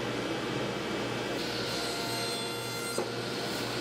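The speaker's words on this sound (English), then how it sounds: "Here I'm just cutting it down to length, and a little bit more walnut to match the other side of the cutting board" Walnut is being cut to length for a cutting board, giving a steady, close rasping and grinding noise with a faint hum beneath and one brief knock near the end, with no voices.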